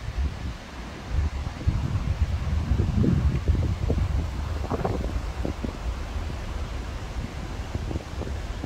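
Foehn storm gusts of around 80 km/h roar through surrounding trees, a loud, continuous rushing wind with heavy microphone buffeting and rustling leaves, swelling and easing in waves.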